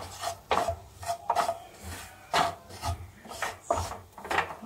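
Two to three spoons of flour roasted on low heat and stirred in a pan for pasta sauce: a wooden spatula rasps against the pan in repeated rhythmic strokes, close and without talk.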